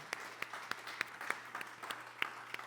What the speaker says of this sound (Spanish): denle ese aplauso fuerte a Jesucristo